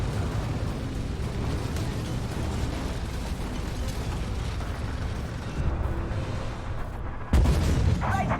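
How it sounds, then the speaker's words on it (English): Tank cannon fire in Armored Warfare's War Games mode, with a heavy, rumbling battle din all the way through and a sharp, loud boom near the end. "Trying to get the shots off as soon as I can."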